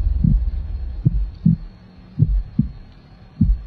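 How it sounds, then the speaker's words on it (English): Heartbeat thumping in a steady, slow lub-dub rhythm of about six low, muffled beats, close and alone with no talk. "I can hear someone's heartbeat."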